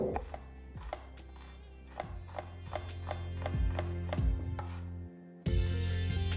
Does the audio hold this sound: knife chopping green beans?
yes